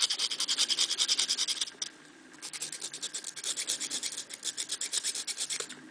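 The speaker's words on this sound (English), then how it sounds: "You can take your nail file" A nail file rasps back and forth against a wooden dowel knitting needle in quick, even strokes, close and fairly soft, with a brief pause before the rhythmic scraping resumes.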